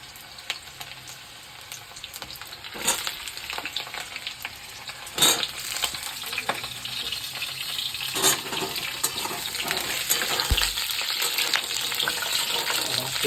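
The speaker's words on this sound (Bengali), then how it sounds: "তেল ছিটকাচ্ছে।" Hot oil spatters and sizzles in a pan while khichuri cooks, a steady crackling hiss with scattered sharper pops and occasional stirring scrapes, growing slightly denser toward the end.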